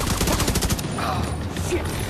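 Rapid bursts of automatic gunfire in the video game The Division 2 crackle loudly for under a second, then give way to a dense, rumbling combat ambience.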